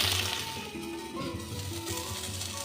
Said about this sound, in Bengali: এবার এই তেলেই দিয়ে দেবো এরকম ছোট ছোট করে কেটে রেখেছি বেগুন